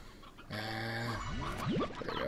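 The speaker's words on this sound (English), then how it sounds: "Oh, I need the rooster." A rooster in the Slime Rancher video game gives short, close clucks with a brief crow-like call, while a person speaks a few words over it.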